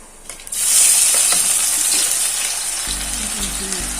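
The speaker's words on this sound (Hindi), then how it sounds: "प्याज को हमें हल्का ब्राउन होने तक फ्राई होने देना है अच्छे से।" Finely chopped onions with cumin hit hot oil and fry, a loud sudden sizzle that holds as a steady close hiss with light stirring scrapes, and a low hum joins near the end.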